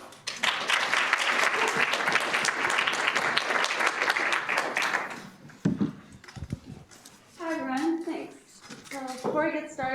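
An audience at a university accelerator pitch event breaks into loud, sustained applause for a startup for about five seconds, then a presenter starts speaking.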